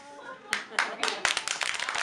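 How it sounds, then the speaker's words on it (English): Several sharp hand claps ring out, sparse at first and then quicker and more scattered, with voices talking faintly underneath. "why did you clap your hands so quietly then?"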